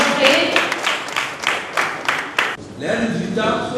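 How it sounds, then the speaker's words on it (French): An audience applauds a contestant's entrance at a children's spelling championship, giving loud, close bursts of clapping for a few seconds before it stops and other sound takes over. "On l'applaudit très fort et on observe ainsi son entrée."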